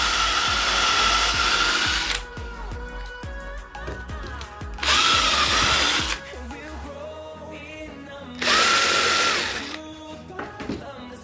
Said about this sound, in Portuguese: vou fazer outro furinho com a mesma broca.